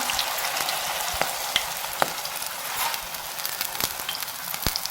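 Spinach pakoras fry in hot oil in a kadai, giving a continuous close sizzle broken by sharp crackles and pops scattered through the clip.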